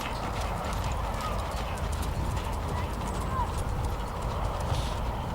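Hooves strike arena footing in a soft, rhythmic clip-clop as a horse performs dressage pirouettes at a Grand Prix festival, with a commentator talking over them throughout.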